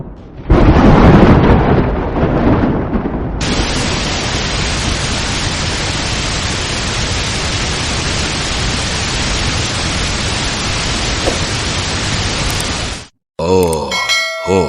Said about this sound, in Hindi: इतनी तेज बारिश हो गई। चलो भागो, बहुत तेज बारिश हो रही है।